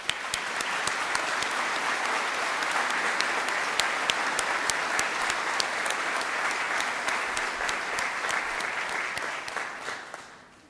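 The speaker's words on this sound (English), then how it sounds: "Let's give them a really well-deserved round of applause." A large graduation audience for a school of medicine, dentistry and biomedical science gives steady, dense applause for about ten seconds, fading slightly at the end, with no talk over it.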